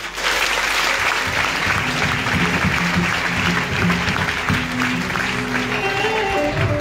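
Applause fills a gathering where a marriage story is being told: dense, steady clapping from an audience continues for the whole stretch, with some voices rising over it.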